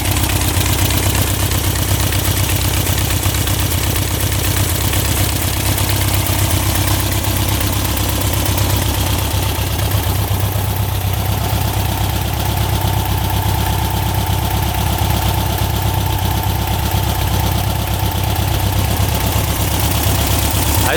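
A 1967 Volkswagen dune buggy's small air-cooled engine idles loudly and evenly at close range, a steady low chugging rumble that holds without revving for the whole stretch.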